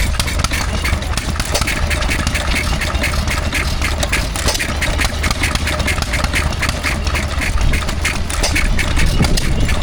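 A Jaeger Machine Co. engine from Columbus, Ohio idles at a rural show at Horns Cross, Sussex, a steady loud mechanical chugging throughout, with outdoor crowd noise mixed in.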